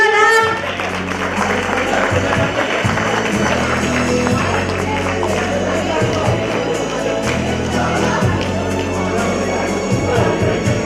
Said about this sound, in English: so clap for them, cheer up.